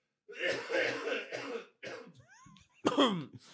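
A man coughs several times in close succession, harsh throaty bursts followed by a short throat-clearing, with brief gaps of silence between them.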